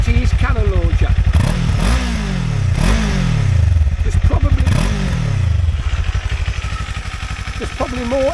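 A 2024 Kawasaki Eliminator 500SE motorcycle idles and is blipped from behind, its engine clatter and exhaust rising and falling in several sharp revs over a steady rapid pulse, with someone talking over it.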